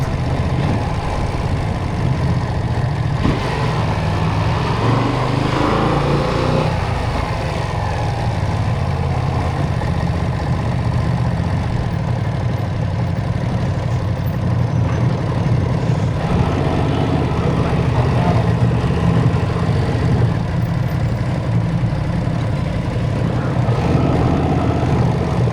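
A Ducati Multistrada motorcycle engine runs steadily, a loud, continuous low drone holding constant throughout with no voices.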